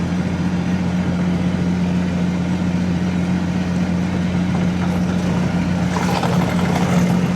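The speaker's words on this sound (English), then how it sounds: "I've never been a very big fan of driving excavators on hills." A Hightop HT15 Pro mini excavator runs on a hill with a steady low engine drone and a constant hum, close and unbroken, with faint clanks near the end and no talk.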